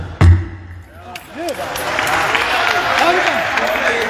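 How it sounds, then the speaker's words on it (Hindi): Crowd clapping at a large outdoor religious gathering in Ayodhya, a loud thump at the start followed by sustained, echoing applause with some voices mixed in. "ताली यहाँ बज रही है"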